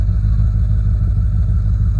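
A project car's engine idles in place, a steady, close, low-pitched rumble with an even pulsing rhythm and no revving.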